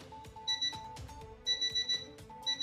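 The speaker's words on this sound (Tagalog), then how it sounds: "bakit naka-alarm ang hotel" A hotel alarm rings in repeated electronic bursts, a high tone pulsing in a rapid on-off pattern that sounds fairly close, with no voices over it.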